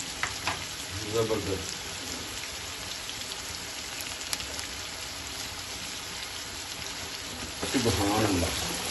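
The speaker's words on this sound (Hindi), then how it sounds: "इसको फ्राई करते हैं अच्छी तरह" Chicken for white karahi fries noisily in a pan, a steady close hiss with louder bursts of stirring near the start and end, while someone speaks briefly.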